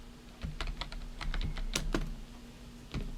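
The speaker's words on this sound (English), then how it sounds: "I'll type in the name, Martha," Keys clatter on a computer keyboard as a name is typed, a quick irregular burst of close clicks with brief pauses and no talk.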